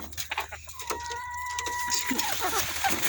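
A hen clucks and makes a drawn-out call close by while sitting on eggs, with people talking softly around it during egg collecting.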